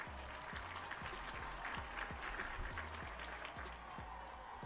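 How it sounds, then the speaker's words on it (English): Faint applause from a small audience, quick, scattered handclaps running steadily throughout and heard from a distance with no distinct cheering. "Let me give a clap and a cheer for that."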